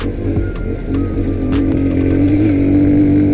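A Victory MRX 150 motorcycle is ridden, its engine droning low and steady with a rising whine as it pulls, heard close amid wind noise.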